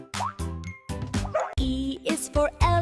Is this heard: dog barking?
yes